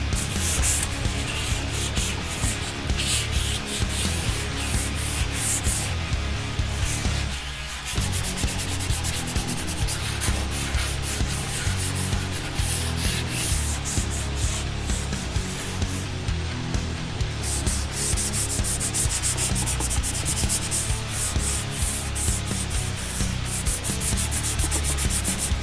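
Fine 800 grit sandpaper rubs continuously across the saucer section of a 1:350 scale Enterprise refit starship model, a close, steady rasping scrub with brief pauses and no speech.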